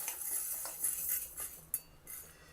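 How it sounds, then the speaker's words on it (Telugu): A spoon stirs urad dal dry-roasting in a pan over a medium flame, giving soft scraping and light metallic clinks at close range, quiet and steady, with no talking. "ఇప్పుడు ముందు మినపప్పు వేయిస్తున్నాను ఇది మధ్య మధ్యలో కలుపుతూ మీడియం ఫ్లేమ్లో పెట్టుకుని కలుపుతూ ఎర్రగా వేయించుకోవాలి"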